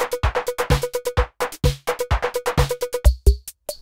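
Vintage LinnDrum drum machine sounds from 1982 play a tight, quick beat of kicks, snares, hi-hats and tuned tom or clap hits in steady rhythm, loud and close with no voices.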